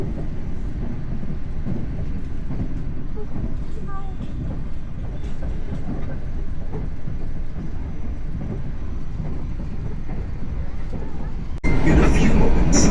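The KA Lodaya passenger train runs at high speed, around 105 km per hour, heard from inside as a continuous loud rumble with rhythmic rail clatter, under faint talk, growing suddenly louder near the end.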